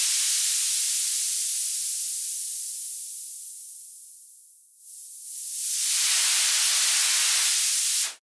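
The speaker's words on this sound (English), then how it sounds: "Instead of having a specific instrument for white noise, we just make a downsweep" A loud burst of white noise in a liquid drum and bass production sweeps steadily downward in pitch, then abruptly rises again before cutting off at the end.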